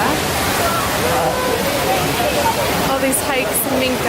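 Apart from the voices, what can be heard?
small waterfall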